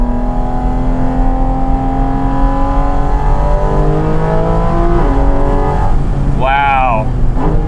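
A 2023 Porsche 718 Cayman GT4 RS engine drones steadily in third gear with rising pitch, then revs up sharply near the end, with a voice talking over it throughout.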